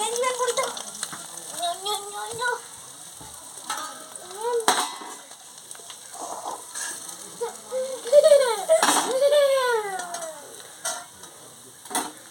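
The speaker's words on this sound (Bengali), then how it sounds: "একইভাবে সব মাছগুলো ভেজে নেব আবার" Bata fish fry in hot oil with a soft, steady sizzle, interrupted by clinks and scraping from turning the pieces and some louder tonal sounds near the end.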